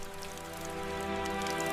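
Steady rain pours over an open buffalo landscape, a dense continuous hiss with close pattering drops, no voices, holding an even loudness throughout.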